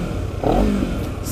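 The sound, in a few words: Honda CBR250RR parallel-twin exhaust revving, Sport Plus mode, slip-on muffler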